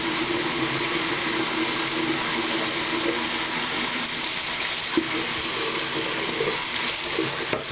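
Water runs steadily from a bathroom sink tap, a continuous close hiss and splash with no pauses throughout.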